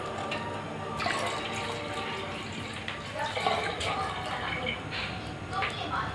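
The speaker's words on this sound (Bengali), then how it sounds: "এখন জল দিয়ে দেব।" Water poured into a cooking pot for a traditional Bishnupriya dish, a steady rushing splash that swells and shifts for several seconds, close and moderately loud, with a voice talking over it.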